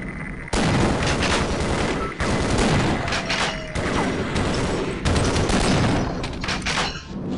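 An automated turret in Half-Life's Blast Pit hammers out loud, dense, continuous gunfire, broken only by a couple of brief pauses.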